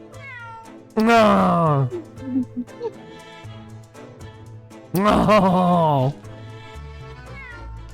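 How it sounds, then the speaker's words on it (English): Wagahai the cat in The Great Ace Attorney Resolve lets out two loud, drawn-out meows, each about a second long, over a soft game music backdrop, with a brief spoken voice between them. "That's a cheeky little meow, Wagahai."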